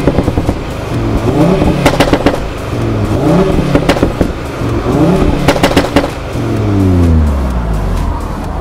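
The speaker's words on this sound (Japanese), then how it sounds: "ちなみにこれはフルノーマルマフラーです。" An Audi car with its full stock exhaust muffler revs loudly up close, several rising and falling engine sweeps ending in a long, deep rev, with no talking over it.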